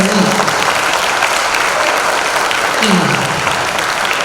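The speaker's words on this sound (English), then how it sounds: "can we all give God another round of applause for the life" A congregation at a memorial service gives a loud, sustained round of applause that fills the room evenly, with faint voices mixed in beneath the clapping.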